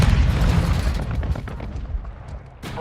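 Grenade going off in a military shooter video game, a loud, deep booming blast with rumbling debris that decays over a couple of seconds, ending in a sharp crack.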